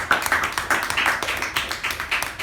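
A small group applauds at a Toastmasters meeting, with scattered, uneven hand claps arriving in short bursts, fairly close and moderately loud.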